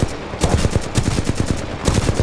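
Rapid automatic futuristic gunfire from Titanfall 2 fills the clip, bursts of close, punchy shots at a fast steady rate with a brief pause partway through, and no speech.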